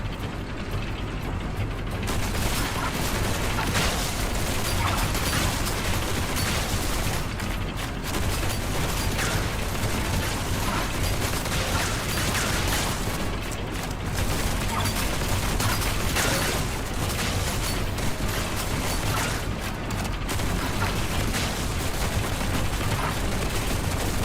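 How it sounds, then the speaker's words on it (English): Cannon fire bombarding a central control room in the video game Duet Night Abyss, a dense, continuous barrage of booming blasts and mechanical rattle that runs loud and unbroken throughout with no pauses. "let's move the cannon to an optimal spot to bombard the central control room."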